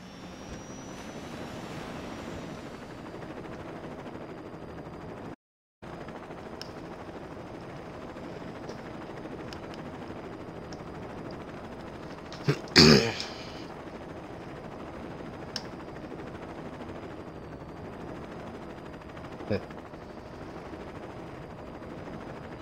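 A helicopter from the Saints Row 2 video game holds a steady rotor and engine drone throughout, broken by a brief dropout, with a short burst of sharper noise partway through and no talk.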